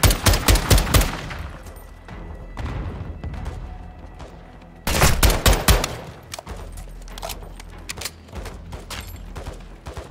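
Bursts of automatic gunfire in Call of Duty: Modern Warfare 2 at the Al Mazrah level, loud rapid volleys at the start and again around the middle, with sparser shots and low rumble between.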